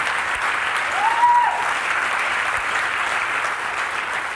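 Sustained audience applause at a PopTech 2007 talk, a dense steady wash of many hands clapping that fills the hall from start to finish, briefly swelling a little before holding level.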